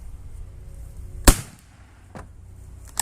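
One sharp, loud gunshot from a gun firing FFFFFG 5F black powder, followed by a couple of fainter pops afterward, heard outdoors with no talk.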